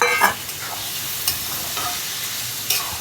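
Fish hiss and sizzle in hot oil in a pan with chili, turmeric and salt, a steady close frying crackle broken by a few sharp clatters as the pieces are stirred.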